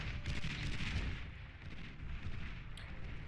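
A unit in the strategy game Beyond All Reason fires into the ground, producing a dense, rumbling barrage of artillery-like booms that swells and then continues steadily in a loud battle wash.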